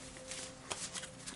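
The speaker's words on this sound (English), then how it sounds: "Okay, one more shuffle." A deck of cards being shuffled up close, a quick riffling flutter with a few soft snaps, fairly quiet.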